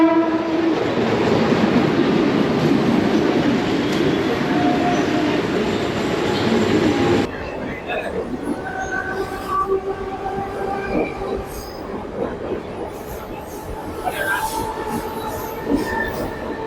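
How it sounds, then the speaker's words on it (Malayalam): A Mumbai local train passes on the adjacent track, a loud continuous rumble of railcars with wheel squeal and a horn, easing to a lighter clatter halfway through. "ഇവിടെ ഒരു ട്രെയിൻ അപ്പുറത്തെ ബാക്കിൽ വേറെ ട്രെയിൻ അങ്ങോട്ട് പോകുന്നുണ്ട്"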